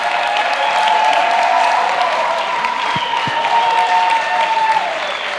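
Sustained applause from an audience at a certificate ceremony for students, with a steady wash of clapping, a sustained tone running underneath and a couple of brief low thumps partway through.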